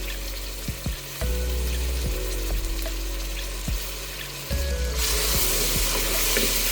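Ginger garlic paste with onions and salt sizzles in oil in a pot for cow head curry, a steady frying hiss punctuated by repeated spoon knocks and stirring scrapes, close up, no voices.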